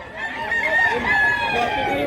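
A rooster at a gamecock sale in Mantalungon, Cebu crows loud and close, one sustained call lasting about two seconds, with other fowl and faint voices around it.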